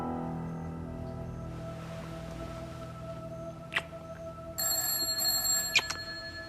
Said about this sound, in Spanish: Teléfono, Torcuato.